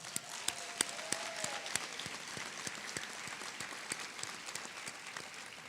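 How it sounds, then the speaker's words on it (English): An audience at a physical therapy doctoral hooding ceremony at Wingate University breaks into sustained applause, a steady crackle of many hands in a large hall with a few sharper claps standing out. "Please join me in giving her another huge round of applause"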